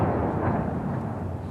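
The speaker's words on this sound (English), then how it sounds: "Every day and night here is punctuated now by the sound of explosions as artillery pounds the outskirts of Ukraine's second largest city." Artillery shelling on the outskirts of Kharkiv, Ukraine, comes through as a continuous low, rumbling roar with dense booming texture, fairly loud and steady throughout, with no voices.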